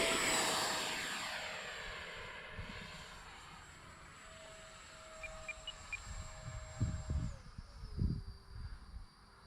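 A small Arrows Marlin RC model airplane flies on its maiden flight, its electric motor a thin high whine that fades with distance and shifts pitch, with wind buffeting and handling noise near the end.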